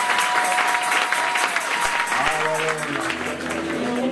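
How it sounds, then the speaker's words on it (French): A congregation applauding during a church worship service, steady dense clapping throughout with voices and singing mixed in. "Et nous t'acclamons très fort."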